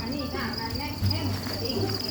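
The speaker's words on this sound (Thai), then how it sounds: "เดี๋ยวจะพามาดู จิ้งหรีดเลี้ยง วิธีการเลี้ยงจิ้งหรีดนะครับ" Farmed crickets chirp steadily and densely, a continuous high trilling chorus heard close up, with faint low background noise and occasional movement beneath it.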